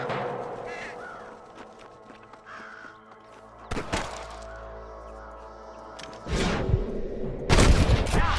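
Gunfire bursts aimed at snipers in the Western game Red Dead Redemption, sharp cracks and booms arriving in a few clusters over a rumbling game soundtrack with crow-like caws.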